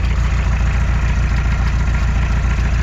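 A rebuilt 1986 Isuzu Trooper 2.2 turbo diesel idles steadily up close, a loud, even diesel chug with a fast regular knock running throughout and no voices.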